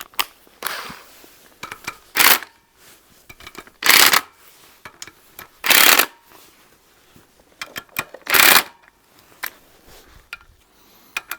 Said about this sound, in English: we'll just give it a quick zip around with the impact